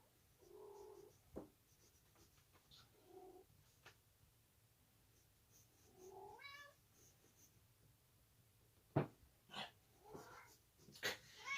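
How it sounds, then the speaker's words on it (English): A cat meows repeatedly in short, rising calls spread across the clip, with a few louder sharp mews near the end and quiet room noise between. "No, stop meowing."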